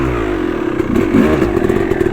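A Yamaha YZ250 two-stroke motocross bike idles with a steady, raspy putter that swells briefly as it revs, loud and close, with no voices.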